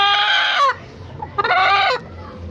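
Shamo hen in a backyard making two loud, drawn-out clucking squawks in quick succession, close to the microphone, with quiet background noise between them.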